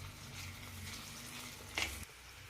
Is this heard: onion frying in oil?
yes